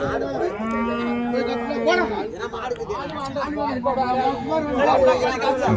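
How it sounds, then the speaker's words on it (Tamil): Large bullocks moo in long, low calls, several overlapping, amid the steady murmur of a busy crowd at the Uthangarai cattle market in Krishnagiri district. "நல்ல பெரிய சைஸு காளைங்க."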